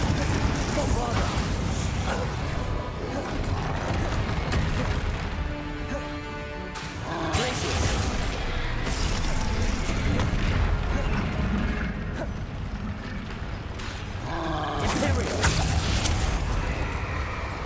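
Bombarda explosion spells going off in Hogwarts Legacy, a run of loud booming crashes and bursts over continuous game noise.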